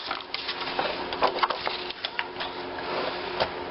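A Fiskars rotary trimmer cuts through paper with a close, rapid series of dry clicks and rasping scrapes, steady and fairly quiet, with no talking.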